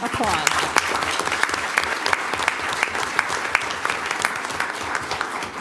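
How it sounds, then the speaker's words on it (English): Sustained applause from an audience at a county school board meeting, steady dense clapping filling the room with some crowd noise mixed in. "Let's give them one more round of applause."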